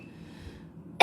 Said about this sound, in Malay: saya di hujung-hujung lagi ni, tak habis lagi batuk